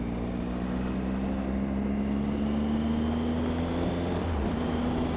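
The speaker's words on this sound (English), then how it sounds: "And that seems to pick up good engine sounds." A motorcycle engine on the Isle of Wight, picked up by a recorder in the rider's jacket pocket, hums steadily with a rising drone under constant wind rush while riding, with no talk.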